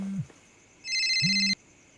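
A phone rings in a quiet room early in the morning, a short electronic trill followed by a second, longer burst of bright tones that cuts off abruptly.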